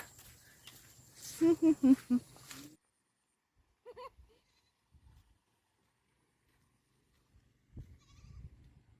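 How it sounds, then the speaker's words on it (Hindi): Goats bleating while walking through a green village, a burst of several loud bleats near the start followed by long quiet stretches with a few faint sounds. "ये है हमारी बकरियां जो कि चल रही है इतनी अच्छे से"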